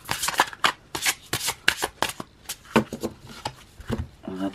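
A deck of oracle cards is shuffled by hand close up, a quick series of riffling, flapping bursts in an uneven rhythm, with no talking.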